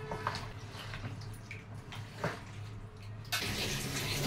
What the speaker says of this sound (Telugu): ఇప్పుడు ఫ్రెష్ వాటర్ తో ఒకసారి కడిగేస్తున్నాను।